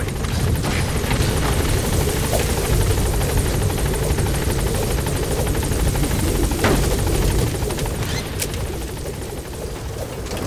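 A helicopter in Metal Gear Solid V: The Phantom Pain drones loudly and steadily from nearby, its rotor wash a constant dense roar with faint crackles over it and no speech.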